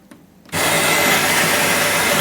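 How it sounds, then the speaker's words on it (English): A Melitta Latticia OT 600 series coffee machine starts grinding beans after a short quiet moment, then gives a loud, steady, whirring grind that lasts to the end with no talking. "Quick grind of the beans."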